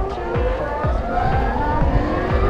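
A Ukrainian-made electric motorcycle motor runs with a steady electric whine that rises and falls. Soft, repeated low thumps sound beneath it, with no combustion engine noise.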